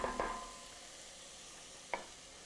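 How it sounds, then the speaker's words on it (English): Sliced mushrooms stirred with onions and garlic in a hot pan, a soft steady sizzle broken by a few brief scraping stirs near the start and one more a little later. "Stir them very well and cook them with the onions and the garlic for around 2-3 minutes."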